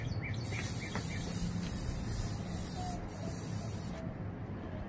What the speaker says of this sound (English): Even spray the smokestack and the baffle.